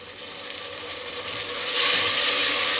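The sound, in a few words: biryani masala with garam masala frying in a pan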